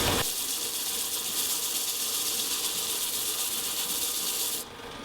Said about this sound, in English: So I just sanded that up a little bit more to 600.